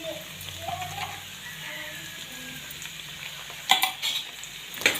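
Ivy gourd masala curry frying in oil in a pan, with a soft steady sizzle and then several sharp scraping stirs of a utensil against the pan near the end.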